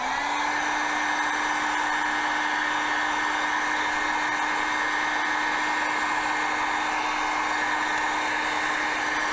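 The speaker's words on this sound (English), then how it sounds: "Now I'm going to take my heat gun and I'm going to shrink this." A cheap handheld heat gun blows continuously while shrinking heat shrink tubing on an Anderson Powerpole and Wago field repair, a steady close whine and rush with no breaks or voices.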